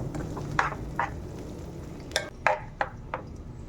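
Chana dal halwa cooking in ghee in a pan over a low flame: a soft, steady sizzle under several sharp spoon scrapes and taps against the pan, with no talking.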